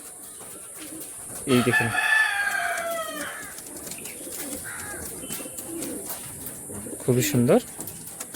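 Teddy pigeons in a loft coo in soft, short bursts, with a louder stretch early on and another near the end, while someone talks over them at close range.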